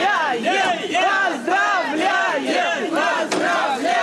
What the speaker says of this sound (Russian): На перроне юных артистов аплодисментами и радостными возгласами встречают родители, друзья